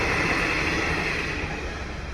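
An express train passes close by beside the railway tracks, a loud, continuous rumbling roar filling the whole stretch and easing slightly toward the end, with no talking.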